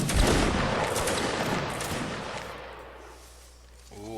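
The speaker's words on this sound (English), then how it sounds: "here we have a couple shots from the 17th" Gunshots from the 17th during a video game battle, with troops firing uphill: a crackling volley of rifle shots and a booming report at the start, rolling away into a fading echo before a faint mechanical sound near the end.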